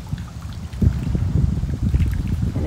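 Lake water lapping and splashing against shoreline rocks at a state park beach, a steady low churning wash with irregular slaps, close by, with light wind noise and no talking.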